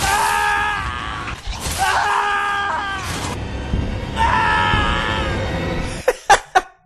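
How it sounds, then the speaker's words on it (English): Ethan's death scream in Resident Evil 7: a loud, strained male scream in long drawn-out bursts over a noisy background, ending with several sharp impact-like thuds. "Ethan's death scream is,"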